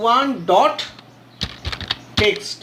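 Typing code on a computer keyboard during Visual Basic 6.0 programming, a scattered run of clicky key taps heard close by after someone speaks, with his voice returning near the end.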